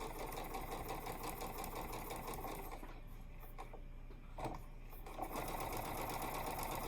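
Sewing machine stitching a quarter-inch seam on scrappy quilt pieces, a fast steady whirring rattle running nearly throughout, dipping briefly mid-stitch before picking back up.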